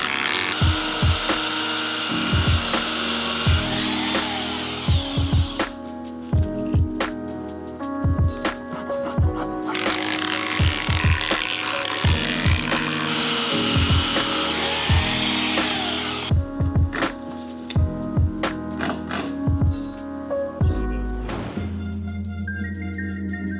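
Power drill driving screws into decking boards on a deck build, with repeated bursts of whirring and pauses between screws, loud and close, alone with no talk.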